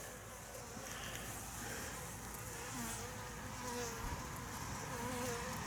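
Honeybees in an open hive make a steady, faint, droning buzz, with individual wingbeats rising and falling in pitch as bees pass close by; no voices are heard.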